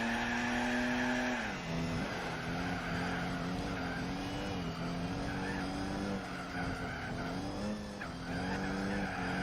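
Race cars in Gran Turismo 4 during a 1000-mile endurance race, with a Mini Marcos GT among Volkswagen, Alfa Romeo and Fiat entries: a steady, loud engine drone with shifting pitch and tire skids, continuous throughout.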